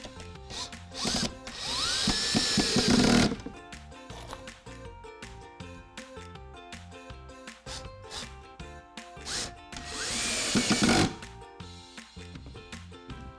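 A power screwdriver drives screws into a wooden wine rack in two loud whirring bursts, with quieter clicks and handling sounds between them.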